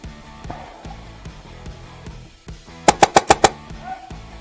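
Airsoft guns fire a rapid burst of five sharp, close cracks during an outdoor team skirmish, preceded by quieter movement and background noise.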